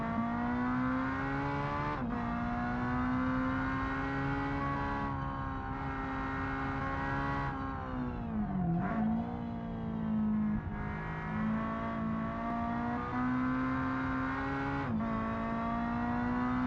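Engine of a Le Mans GTE race car in a sim racing game with a sequential gearbox, revving steadily with a strong harmonic drone, dipping briefly for blipped heel-toe downshifts at intervals, loud and continuous with no talk.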